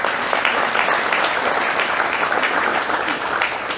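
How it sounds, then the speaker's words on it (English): An audience at a keynote event gives the event staff a round of applause, a dense, steady wash of clapping from many hands that holds at an even loudness throughout with no voices on top. "they all deserve a round of applause for the great job they have done this evening"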